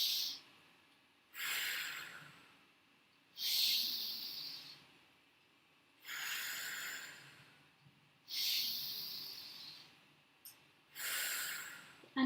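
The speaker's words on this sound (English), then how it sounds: "3 deep breaths here." Slow, deep breathing during a yoga stretch, with airy inhales and exhales alternating in a steady rhythm of about five full breaths, close and soft with quiet pauses between.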